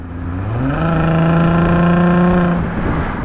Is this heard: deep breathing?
no